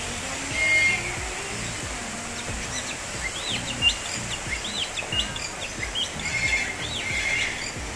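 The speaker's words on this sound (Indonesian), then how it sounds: "Dengar gak suara burungnya" Birds call repeatedly at a children's zoo in Taman Safari Indonesia, with bright chirps and whistled notes over a busy outdoor background of low rumble and rustling.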